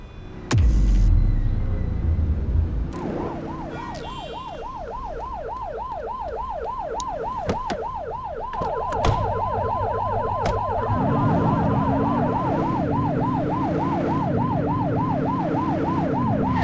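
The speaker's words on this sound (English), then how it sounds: "Turn that siren off. We don't need it on right now." A police car siren in the video game The Precinct wails in a fast, regular rising-and-falling cycle over a low engine hum, loud and continuous after a brief burst of crash and engine noise.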